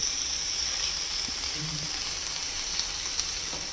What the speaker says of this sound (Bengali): এবার এগুলো সব মিলিয়েই ভাজবো